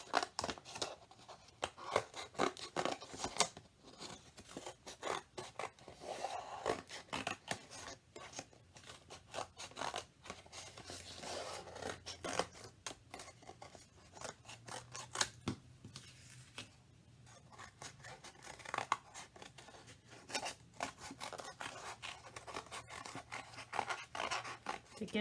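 Scissors snip steadily through two layered sheets of paper, a long run of crisp, close cuts and rasping slides with occasional paper rustle, almost no talk.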